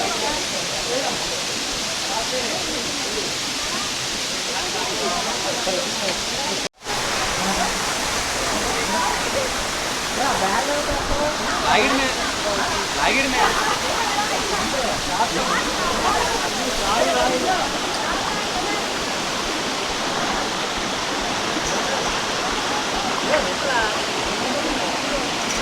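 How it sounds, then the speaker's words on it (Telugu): Katiki waterfall in Araku Valley, heard from a distance as a constant broadband rushing roar that stays steady throughout, with faint voices mixed in at times. "ఇక్కడ దూరంగా కనిపిస్తుంది కటికి వాటర్ ఫాల్స్ వచ్చి"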